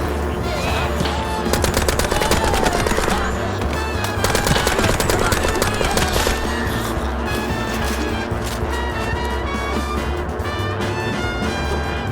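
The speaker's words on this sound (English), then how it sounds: "Just shut up and keep firing!" Rapid bursts of machine-gun fire in an action cutscene from the game Mouse P.I. For Hire, mixed with music and effects in a dense, loud, continuous barrage.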